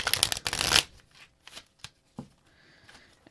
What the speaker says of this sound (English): And these cards don't want to shuffle.